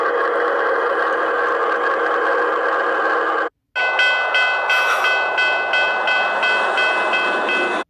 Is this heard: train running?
yes